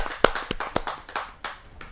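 Scattered hand claps from a kavi sammelan audience welcoming a poet, sharp and irregular, with a few loud near claps among fainter ones and no voices.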